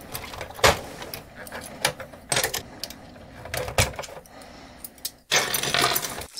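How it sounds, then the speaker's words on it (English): Loose mechanical keyboard keycaps handled during a MechBoard64 build, a series of scattered plastic clacks and rattles in irregular bursts, close up with no talk. "So that was a lot of keycaps,"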